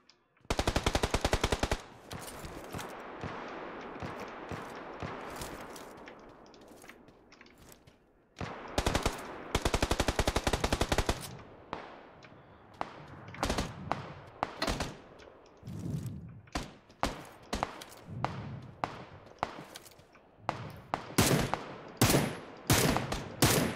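Repeated bursts of automatic rifle fire from an M4 in a shooter game played in a snowy area, loud sustained volleys early, then shorter sharp bursts and single shots with brief gaps.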